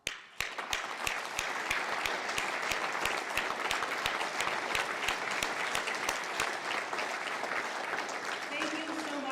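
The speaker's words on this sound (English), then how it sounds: "Let's have them all stand and give them a round of applause." An audience at a military police welcome home ceremony claps steadily, with sharp individual claps standing out near the microphone over sustained applause filling the room while voices are faintly heard underneath.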